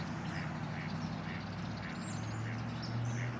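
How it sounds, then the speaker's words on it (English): Ducks quack at a lakeside park on Clear Lake, a few short, soft calls spaced over a steady outdoor hum, faint and at a distance. "There were also quite a few birds hanging around this park"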